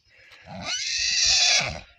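A mare neighs once, a long, rising and falling whinny that carries clearly, with soft snorting breaths at the start and end.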